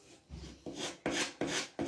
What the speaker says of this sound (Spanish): Pues mientras le doy aquí a la lija